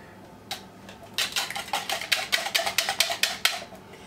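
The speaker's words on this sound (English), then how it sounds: "Let me whisk my eggs real good" Eggs being whisked in a bowl while making spaghetti pie, a run of quick, sharp clinking strokes that starts sparse and settles into a steady rapid rhythm, close and clear with no talking.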